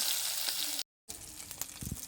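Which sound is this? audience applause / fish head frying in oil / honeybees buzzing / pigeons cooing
fish head frying in oil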